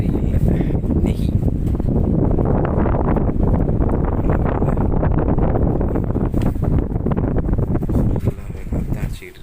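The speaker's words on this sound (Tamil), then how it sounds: "காற்று அடிச்சிக்கிட்டு இருக்கு." Strong wind blasts steadily and loudly across the microphone at night, a continuous roaring rush with gusty swells that eases slightly near the end.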